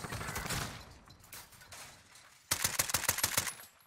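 Rapid gunfire from an AS VAL rifle in semi-auto mode, firing through a wall in Modern Warfare. A steady stream of shots is followed by a louder, closer run of distinct cracks.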